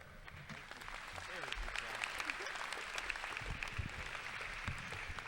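Steady clapping from a large audience at a high school graduation ceremony fills the room, with dense scattered claps and a little crowd noise underneath.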